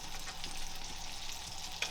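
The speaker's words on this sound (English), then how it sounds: "you put butter onto the frying pan, and then just let it melt" Butter melting in a hot frying pan for french toast gives a steady, close sizzle and crackle that holds for the whole span, with one brief sharper pop near the end.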